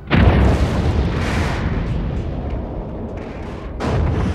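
A huge science-fiction explosion from Star Trek VI bursts in loud and close, holding as a sustained roaring rumble for several seconds before a second surge near the end.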